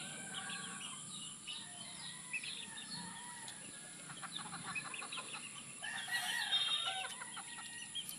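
Young gamefowl chicks kept for breeding peep and cluck in a quick, overlapping chorus, moderately close, with a brief flurry of louder calls and light scuffling near the end.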